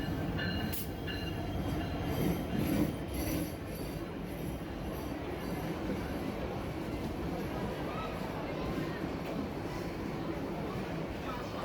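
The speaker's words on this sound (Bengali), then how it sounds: "আমাদের কাঙ্ক্ষিত ট্রেন চলে এসেছে ঠিক 11টা 5-এ" A passenger train on the Dhaka to Cox's Bazar route pulls into a station platform, a steady loud rumble of rolling railcars with occasional wheel squeal, voices of waiting people murmuring beneath.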